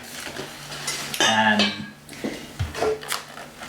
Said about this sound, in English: I've got a whisk, and basically beat the egg white into, it just says beat the egg white.